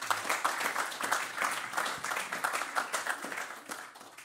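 Warm, moderately loud applause from an audience at an architecture prize event in Amsterdam, with many hands clapping in a close, even rhythm that gently tapers toward the end.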